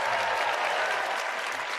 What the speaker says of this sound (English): by a round of applause, who has been to Sneaks before?